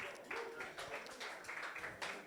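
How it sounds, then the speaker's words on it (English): Workshop audience clapping for the speaker after a beginner self-custody session, a short burst of scattered hand claps at moderate distance, fairly quiet and uneven. "Can we give a round of applause for Cole?"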